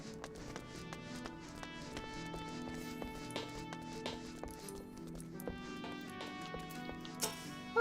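Horse hooves clip-clop at a steady trotting rhythm in the Final Fantasy XIV world, moderately close, set against soft layered game music with sustained tones.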